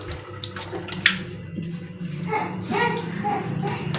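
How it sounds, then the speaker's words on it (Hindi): Water running steadily from a tap while hands are washed at a sink, close and continuous, with children's voices talking over it. "मम्मा मैं भी हाथ धो लूँ"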